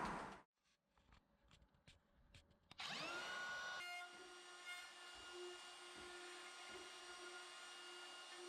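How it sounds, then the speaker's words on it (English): A DeWalt router plunges into a door edge inside a Trend skeleton hinge jig, cutting a hinge recess in wood; after a few faint knocks the motor starts abruptly and runs at a loud, steady whine, close and alone. "So then I plunge it down that extra distance to allow for the hinge, and then I can route inside the skeleton hinge jig."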